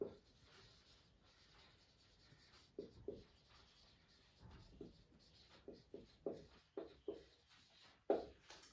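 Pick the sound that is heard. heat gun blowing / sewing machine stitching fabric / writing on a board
writing on a board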